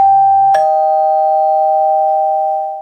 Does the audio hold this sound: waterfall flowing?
no